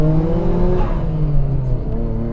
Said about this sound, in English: Oh, the blow-off valve!